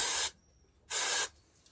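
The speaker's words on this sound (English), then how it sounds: "Carb spray." Two short, close hissing blasts of carburetor cleaner sprayed into the intake of a Murray lawn mower engine, separated by a brief silent gap.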